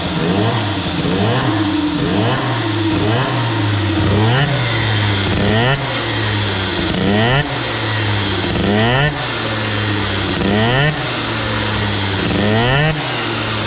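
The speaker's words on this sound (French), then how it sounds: "quand je vais accélérer, au début l'embrayage, le moteur va prendre du régime et ça va faire..." A Gilardoni Booster 50 scooter engine with a BOOST cylinder head revs loudly and close, its pitch climbing and dropping in repeated throttle blips throughout, with no talk over it.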